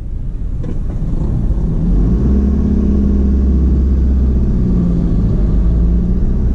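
Cars crawl in a road traffic jam, a loud, steady low engine rumble and drone of nearby vehicles that swells slightly and never lets up.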